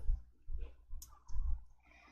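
Several computer mouse clicks during Excel work, spaced at irregular intervals with soft low thumps and a faint room hum between them, no talk.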